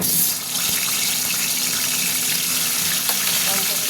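Boiled tomato frying in a hot pan gives a dense, steady hiss and sizzle throughout, fairly loud and close, with a few faint clicks and no talking.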